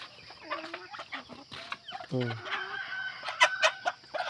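Pet chickens, a handful of hens and a rooster, cluck in short bursts before the rooster lets out a loud, near crow midway, followed by more clucking and bright calls; some light human voice sounds mix in.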